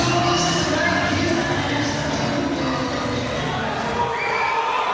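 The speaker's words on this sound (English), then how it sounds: "The crowd are going absolutely wild for him." A boxing arena crowd cheers and shouts loudly as a fighter enters the ring, sustained dense roar throughout with whistles, without a clear break.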